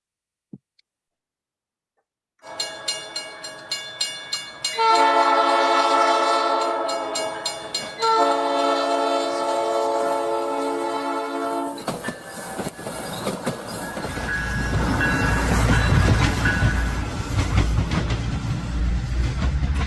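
A train rumbles past with long, loud horn blasts sounding in several bursts, then steady rolling and clattering of cars as it continues by, ending with a caboose. No one speaks.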